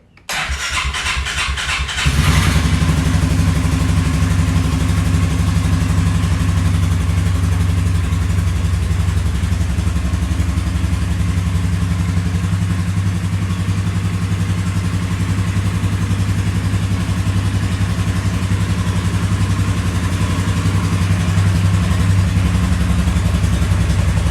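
A 2020 Polaris Sportsman 450 HO ATV cranks briefly, fires up and settles into a steady, loud idle close by, running alone without talk for over twenty seconds in warm outdoor conditions.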